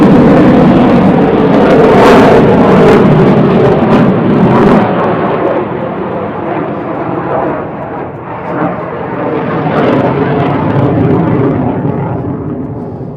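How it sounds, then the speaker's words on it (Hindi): Helicopters flying overhead near the Great Sphinx of Giza make a loud, continuous rumbling roar that fills the whole stretch, swelling and easing slightly, with no talk over it. "यहाँ पे इतना शोर हो रहा है क्योंकि हेलीकॉप्टर जो है ना ऊपर एक्टिविटी कर रहे हैं"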